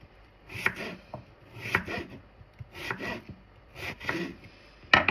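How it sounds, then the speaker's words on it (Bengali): A knife chops through bottle gourd (lau), cutting it into thin slices: five crisp, evenly spaced strokes about once a second against a board, close and clear with no talk. "আমি যেভাবে কেটে নিচ্ছি পাতলা পাতলা করে"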